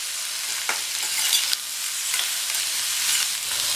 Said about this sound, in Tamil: இந்த காயை 2 நிமிஷம் போல் எண்ணெயிலேயே வதக்கி விட்டுக்கணும்.